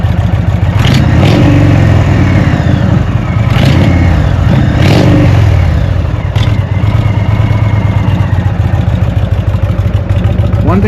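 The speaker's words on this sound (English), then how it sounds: "It's an air-cooled huge twin 1812cc 111 cubic inches." Air-cooled 1812cc (111 cubic inch) twin engine of an Indian Springfield Classic with Shark Road aftermarket exhausts rumbles loudly up close, with several sharp revving bursts rising over a steady idling throb.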